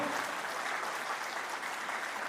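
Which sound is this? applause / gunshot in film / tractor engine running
applause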